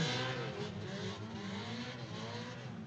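A drift car with a Honda engine at a drift competition on a road circuit, its engine droning steadily and loud throughout, with a sustained rough roar and faint tire noise.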